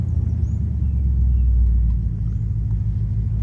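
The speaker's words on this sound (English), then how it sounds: "now we can give you a little bit of a brake test" A 1955 Ford Fairlane rolls to a stop during a brake test, its engine and tyres producing a steady low rumble that eases slightly as the car slows, with no voices.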